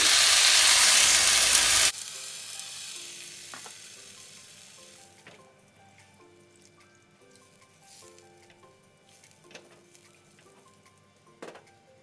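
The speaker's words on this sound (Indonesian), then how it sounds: "Bumbu yang ditumis, siapkan wajan, beri sedikit minyak goreng." Spices sizzle loudly as they hit hot oil in a wok while making chicken tongseng, then settle into a quieter, steady frying crackle with occasional clinks.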